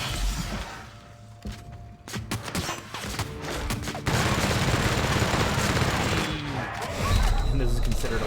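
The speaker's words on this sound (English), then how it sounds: "this is considered a light machine gun" Light machine gun fire in the video game The Outer Worlds, dense bursts of rapid gunshots that thicken into a sustained roar of fire, with a person talking over parts of it.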